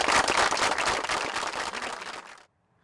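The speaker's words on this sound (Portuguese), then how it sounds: "Uma salva de palmas para Vida Alves" An audience claps loudly and steadily for Vida Alves, dense continuous applause that stops abruptly near the end, leaving silence.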